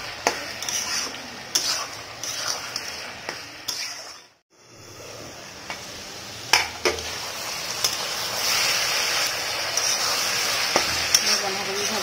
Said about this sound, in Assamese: মই এতিয়া ভাজি থাকিম অকণমান জোলকণ শুকোৱালৈকে।